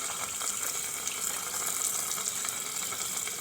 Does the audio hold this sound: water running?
yes